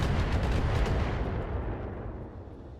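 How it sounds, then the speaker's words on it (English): Turrets fire on mechs in the video game Battletech, a heavy sustained barrage of booming gunfire that rolls and slowly fades over a few seconds. "We are still being shot at by those damn turrets."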